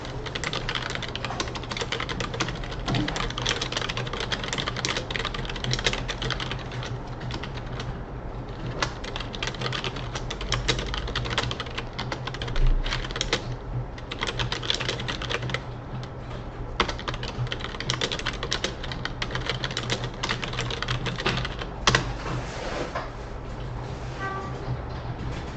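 Steady, continuous typing on a computer keyboard, dense clicking keystrokes at close range running throughout with no talk over it.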